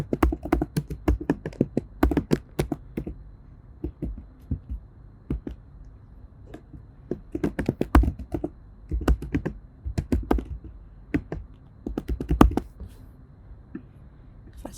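Keys on a computer keyboard are tapped in irregular bursts of quick, crisp clicks with short pauses between, close and clear with no talking.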